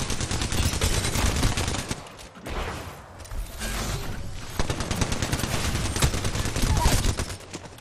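Sustained automatic gunfire from the video game Apex Legends, dense rapid bursts that are loud and close, briefly dropping off near the middle before resuming, with faint talk underneath.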